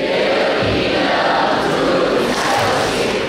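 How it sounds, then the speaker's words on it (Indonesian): Broad, steady applause from a large church congregation at a morning worship gathering, dense and sustained throughout at a fairly loud level, with no voices standing out. "boleh beri tepuk tangan untuk kemuliaan Tuhan"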